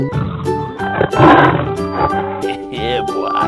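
A lion's deep roar, loud and close, mixed with busy overlapping sounds and a voice in the background, part of a playful animal-sound sequence.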